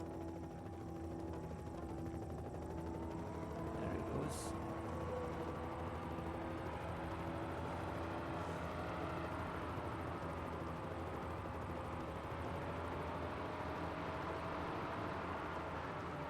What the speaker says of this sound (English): So there goes Garth's chopper.